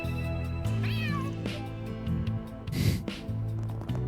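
Cat meows from the video game Trails Through Daybreak, several rising and falling calls over a steady background music bed, with a louder burst near the end.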